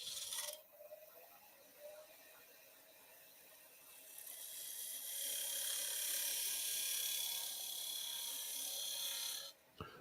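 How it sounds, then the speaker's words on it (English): A small spindle gouge cuts across maple end grain on a spinning wood lathe, giving a steady, faint, hissing scrape that swells in the middle and holds there before stopping near the end. "Let's do that with a small spindle gouge. We'll go across this way. It's kind of cutting across end grain."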